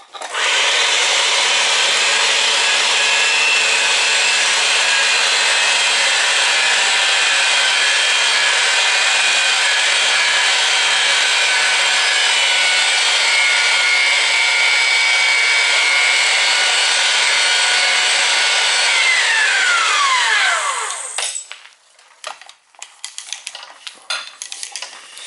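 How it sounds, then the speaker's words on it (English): A natural gas pipe end is threaded for a grill install, giving a loud, steady grinding and cutting drone that runs unbroken for about twenty seconds, then winds down and stops with scattered clicks. "We'll thread this end, then we'll thread the other end"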